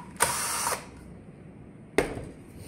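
A power screwdriver loosens a screw on the back panel of an A-12 smart lock in two short whirring bursts, separated by a brief pause, close and fairly loud.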